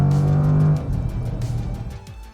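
Jaguar F-PACE SVR 2021 in dynamic mode with its exhaust opened up: a steady low engine drone with a strong held tone that drops and settles into a rougher, fluttering rumble as the car moves.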